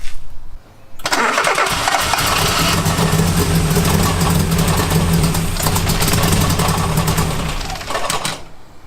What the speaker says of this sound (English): Got the key, we're going to try and start it.